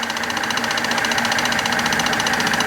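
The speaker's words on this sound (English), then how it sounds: "Buffing it up." A wood lathe spinning at about 1,000 RPM while a turned wooden genie bottle is buffed: a loud, continuous mechanical hum with a fine rhythmic pulsing and no talking.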